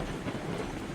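Train running in the RailRoads Online video game, a steady low rumble with a continuous rolling rail texture, loud and close for a brief moment with no talk.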